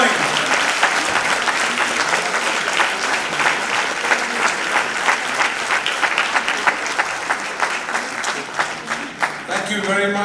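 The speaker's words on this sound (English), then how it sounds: "Keep those claps going." Sustained applause from an audience at the unveiling of Ila Arun's debut autobiography, dense and steady clapping filling the whole stretch with a few louder bursts, fading near the end.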